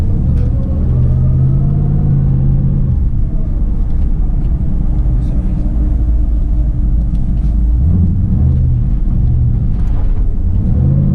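Turbocharged Coyote V8 in an S197 Ford Mustang with a Turbo 400 transmission, full spool and built rear end, heard from inside while driving: a loud, deep, steady engine rumble with swells of acceleration and no talking.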